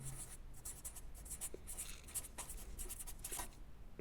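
A pen scratches across paper as a Spanish verb is written out by hand, a close, quiet run of short scraping strokes with brief gaps between words.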